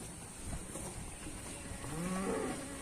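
Cattle being moved to a new paddock, with one faint, low moo rising near the end over steady outdoor noise.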